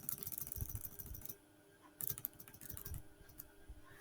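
Rapid keystrokes clatter on a computer keyboard while Django code is written, coming in dense bursts with a brief pause in the middle, close and fairly crisp.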